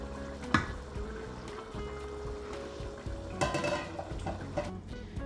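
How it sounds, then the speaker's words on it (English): Chicken curry simmers in a pan on a gas hob at lower heat, a soft continuous bubbling and sizzle broken by a few light clinks of utensil against the pan. "I'm going to leave that to just boil away now on a lower heat for 1 minute now"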